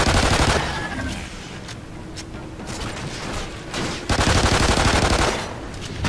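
Rapid automatic gunfire in the video game MAYDAY Extinction aimed at the Leaper, loud dense bursts at the start and again from about four seconds on, with a quieter stretch between.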